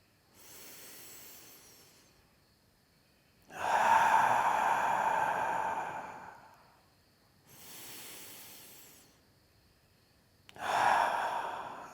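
Slow diaphragmatic belly breathing, with long audible inhales and exhales through the nose and mouth, four breaths separated by quiet pauses, close to the microphone.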